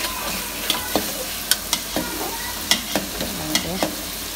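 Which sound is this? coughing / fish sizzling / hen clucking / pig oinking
fish sizzling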